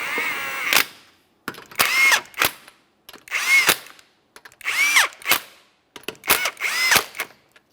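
A power tool snugs the 19 mm lug nuts on the rear wheel of a 2015-2019 Subaru Outback: five loud, close bursts of whirring and rattling impacts, each about a second long, separated by short silences.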